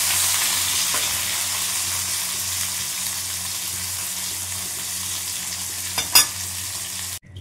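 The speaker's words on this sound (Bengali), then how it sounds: "এবার আস্তে আস্তে একটু নাড়াচাড়া করতে থাকি।" Whole tomatoes fry loudly in a pan with a curry leaf tempering, a dense, steady sizzle that holds throughout, then a couple of brief scraping knocks of the spoon near the end before it cuts off.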